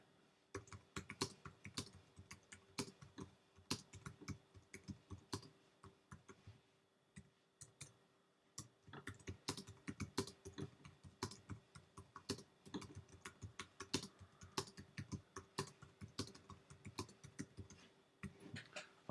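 Steady typing on a computer keyboard while entering page content in a text editor, close, quick key clicks in long continuous runs with a brief pause midway, no voices.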